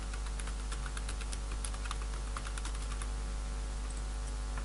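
Rapid, steady typing on a computer keyboard, with dense clicky keystrokes continuing for several seconds over a constant low hum, no talking.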